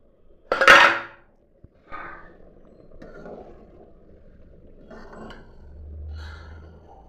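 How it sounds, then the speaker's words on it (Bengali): A lid comes off a pot of khichuri made with chana dal and fine rice, giving one sharp metallic clank followed by faint, scattered clinks and quiet bubbling. "ঢাকনাটা নামাবো"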